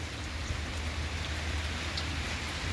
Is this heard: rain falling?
yes